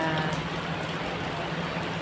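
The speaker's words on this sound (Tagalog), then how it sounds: "malakas ang ulan" Heavy rain pours down in a dense, steady hiss close by at a tourist spot in Macao, with no break and no voices over it.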